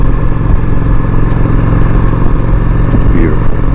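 Honda Shadow 750 motorcycle engine running while riding, a loud steady low rumble with dense harmonics that holds unbroken through the clip, close to the rider.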